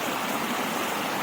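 Rainwater rushes down a mountain path after heavy rain, a dense, steady hiss and gush of flowing water with no other sounds.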